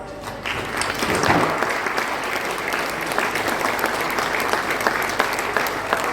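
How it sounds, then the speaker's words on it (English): Sustained audience applause for the election count staff at the Mid Ulster declaration, dense steady clapping from a crowd in a count hall, loud and continuous throughout. "Maybe just offer them up a round of applause."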